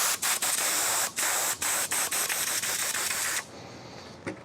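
Air hisses out of a Zipp 303 XPLR bicycle tyre in loud, steady bursts broken by short pauses for about three and a half seconds, then drops to a faint trickle.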